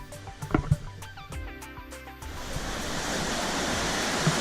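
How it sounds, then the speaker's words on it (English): Flowing water rises into a loud, steady broadband rush during a river crossing, drowning out a brief stretch of tonal background sound that comes before it. "I'm actually crossing a river"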